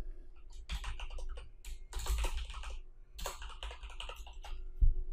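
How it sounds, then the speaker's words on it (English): Computer keyboard clatters close up as PHP code is typed, with quick irregular bursts of key presses separated by brief pauses and no voices. "let's write one more file to auto load these classes"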